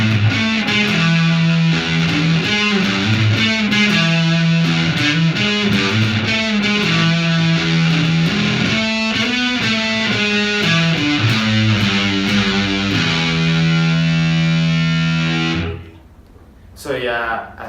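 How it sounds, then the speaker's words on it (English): An electric guitar played through a distortion pedal rings out loud and saturated, with thick sustained chords and riffs for about fifteen seconds before cutting off abruptly, leaving a brief faint tail. "distortion is like a whole lot more than an overdrive"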